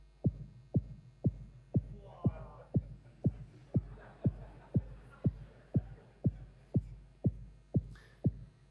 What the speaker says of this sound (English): So we have a kick drum made from a sine wave and 2 envelopes